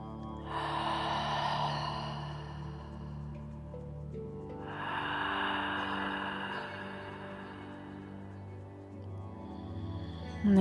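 Slow, deep breaths during a yin yoga meditation: two long, soft airy exhales or inhales, close and quiet, alone over a faint steady background.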